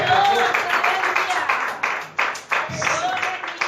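A Pentecostal church congregation claps during a sermon, with broadband hand-claps rising and falling under a preacher's loud, echoing voice that dominates the sound.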